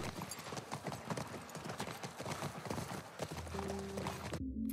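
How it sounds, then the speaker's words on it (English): A horse gallops in The Last of Us, its hooves striking in a quick, regular clip-clop rhythm, close and steady, ending in a brief cut and a low tone. "if you're just riding the horse like this, you're never going to maintain his full speed."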